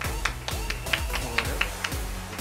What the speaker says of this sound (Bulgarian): още веднъж аплодисменти за шампионите